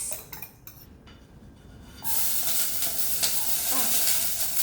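Bitter gourd with egg and garlic frying in a pan, a steady loud hiss and sizzle rising suddenly halfway through after quieter clinks, continuous and close.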